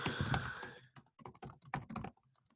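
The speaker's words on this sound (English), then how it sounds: "I'll type it in here." Someone types on a computer keyboard nearby. A fast run of dense keystrokes is followed by short separate bursts of clicks with brief pauses between them.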